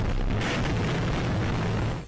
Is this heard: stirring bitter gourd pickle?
no